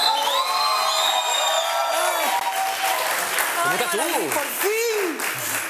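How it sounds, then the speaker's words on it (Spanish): A TV studio audience applauds and cheers with whoops and shouts, building toward the end while people talk over the noise. "¡Un aplauso para Mimirazo!"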